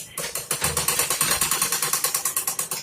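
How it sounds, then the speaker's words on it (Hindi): A sewing machine runs steadily while stitching at home, its needle mechanism tapping out a fast, even rhythm of about seven beats per second, close and clear with no talk over it. "मैं हाँ मशीन में बैठे हावो सिलाई करे बर"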